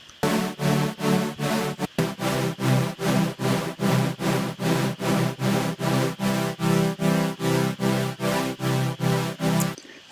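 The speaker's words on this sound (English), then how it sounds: "This has, as you might remember, the super detune mode." Serum synth saw oscillator in super detune mode plays a thick, buzzy chord, pulsing in rapid repeated stabs with a brief gap near the start, loud and alone.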